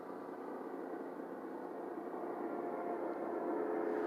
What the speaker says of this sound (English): I'm outside and a helicopter's going by.